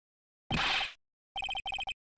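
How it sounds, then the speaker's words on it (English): A phone rings in the Phoenix Wright: Ace Attorney – Justice for All video game, a brief noisy burst followed by a loud, close electronic bell trill in three quick pulsing groups. "Is that your phone? That was my phone."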